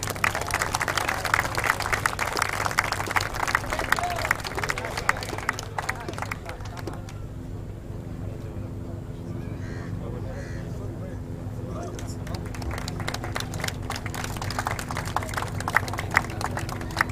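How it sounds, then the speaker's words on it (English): Crowd applause and clapping for the best team manager at an XCAT powerboat race awards ceremony in Dubai, loud and dense at first, easing midway, then rising again, with outdoor crowd noise and talk mixed in. "Put your hands together and give him a big round of applause to Nasser Al Bahani."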